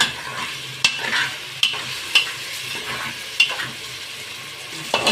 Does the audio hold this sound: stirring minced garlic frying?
yes